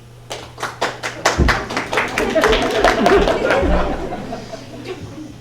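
An audience at a school production of Shakespeare's A Midsummer Night's Dream claps, starting with a few sharp individual claps that swell into sustained applause mixed with chatter and light laughter.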